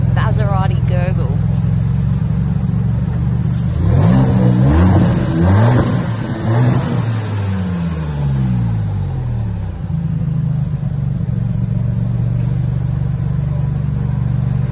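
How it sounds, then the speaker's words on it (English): A Maserati MC20 supercar engine revs loudly in several rising and falling bursts over a steady idle rumble, with a person talking across much of it. "Ready to hear it? Yes, that iconic Maserati gurgle."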